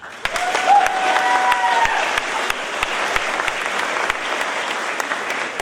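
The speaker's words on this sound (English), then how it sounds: "This is when you're supposed to clap." Graduation audience applauding for the class of 2024 ceremony, a dense, steady wash of many hands clapping with a few sharper near claps and faint cheering throughout, no one speaking.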